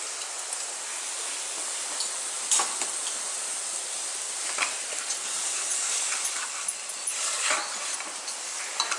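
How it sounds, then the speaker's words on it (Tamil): Goat rib bones and liver tossed into onions frying in a pan, giving a steady broadband sizzle with occasional louder pops and crackles, heard alone without talk. "எடுத்து வச்சுருக்க மட்டன் எலும்பை வந்து நம்ம ஆட் பண்ணிக்குவோம்."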